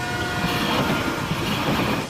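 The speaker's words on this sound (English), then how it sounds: "So when the train is coming toward you, you hear a high-pitched whistle." A train rumbles past with a steady, loud roar and a sustained high horn tone running through it, continuous for about two seconds.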